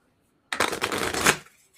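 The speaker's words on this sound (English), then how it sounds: "You guys want to see my shuffling capabilities?" Playing cards are shuffled in one quick riffle lasting about a second, crisp and close, in an otherwise quiet room.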